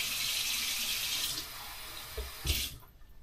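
A kitchen tap runs while cooking, a bright hissing stream that flows steadily, tapers off, then bursts briefly again before shutting off, close and alone.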